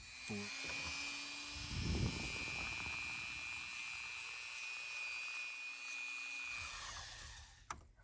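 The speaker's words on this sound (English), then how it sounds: "that's polished off with the Dremel" A Dremel rotary tool polishes a fuel gauge wire connector on a 1985 Chevrolet Caprice Classic, giving a steady, high-pitched whine that holds for about seven seconds before spinning down, close and fairly loud, with a brief low thump near the start.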